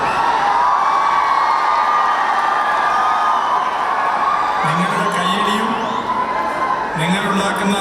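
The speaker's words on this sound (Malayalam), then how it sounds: "നിങ്ങളുടെ കയ്യടിയും" A large crowd at an event cheers and whoops, a steady roar with shouts rising and falling, and a voice talks over the noise.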